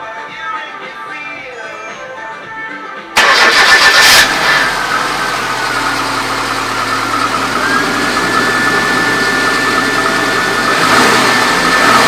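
Car engine cranks and catches after an oil change, then settles into a steady, loud idle that runs on with a constant hum, preceded by a quieter electrical whine.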